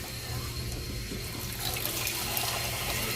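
Water pours steadily from a tap into a cooking pot for a Filipino dish, a continuous close splashing rush that swells slightly louder toward the end, with no talking.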